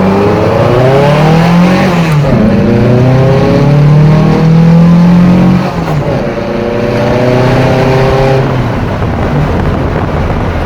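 A loud, raspy Volkswagen Beetle Type 4 engine with an EMPI aftermarket muffler revs up and down repeatedly, its pitch climbing and dropping in sweeps, close and continuous without talk.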